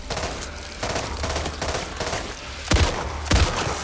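Gunshots ring out in Back 4 Blood, a run of sharp close-range shots in uneven bursts, two louder heavy cracks near the end, with no voices.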